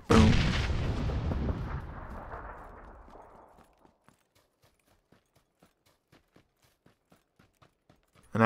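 A grenade explodes in the PUBG video game with a loud, booming blast that rolls off and fades over several seconds, followed by faint, regular tapping footsteps.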